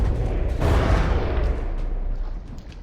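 Cannon fire in the naval combat game From the Depths, the Overlord warship pounding its disabled opponent: a heavy booming blast up front followed by a long, dense rumbling roar of continuous gunfire that slowly fades, with no talk.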